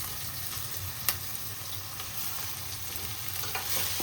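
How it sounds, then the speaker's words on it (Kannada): Tomato is stirred into capsicum and other vegetables frying in a pan for veg noodles, giving a steady close sizzle with soft scraping and one sharp clack early on. "ಟೊಮೊಟೊ ಹಾಕಿಬಿಟ್ಟು ಮಿಕ್ಸ್ ಮಾಡ್ಕೊಳ್ಳಿ, ಚೆನ್ನಾಗಿ ಮಿಕ್ಸ್ ಮಾಡ್ಕೊಳ್ಳಿ"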